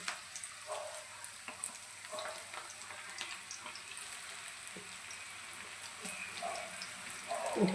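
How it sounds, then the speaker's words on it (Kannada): Onion pakoda batter dropped into hot oil, frying with a steady soft sizzle and crackle and a few louder bubbling swells near the end, with no talking. "ಎಣ್ಣೆ ಕಾದಿದೆ. ಇದನ್ನು ಸಣ್ಣದಾಗಿ ಬಿಟ್ಕೊಳ್ಳೋಣ."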